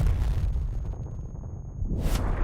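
A cannon shot bursts in the vehicle combat game Crossout, a heavy low boom rumbling throughout with a sharper burst rising near the end, loud and close with no voices.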